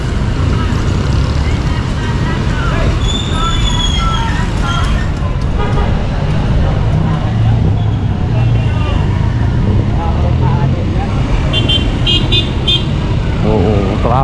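Busy road traffic with cars, buses and motorcycles, a loud continuous roar of passing engines with occasional horn toots, under people talking.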